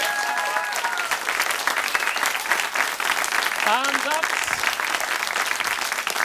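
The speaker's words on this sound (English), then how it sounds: "Round of applause for our guest, please." A studio audience applauds the guests on a television chat show. The sustained, even clapping fills the room while a host's voice speaks briefly over it.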